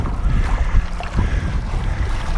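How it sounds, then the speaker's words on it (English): Rough, gusty wind buffets the microphone in a loud, continuous low roar with uneven surges, no voice heard. "we've got a bit of rough wind going on here"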